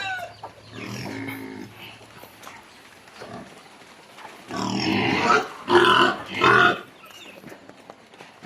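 Hungry pigs, including a pregnant sow, grunt and squeal loudly in short bursts at feeding time, with hens clucking in the background of a busy farmyard.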